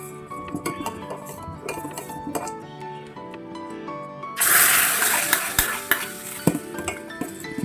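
A spoon stirs jackfruit payasam in a metal pot after ghee-roasted cashews go in, giving close scraping and clinking, with a burst of bright sizzle midway and no talking.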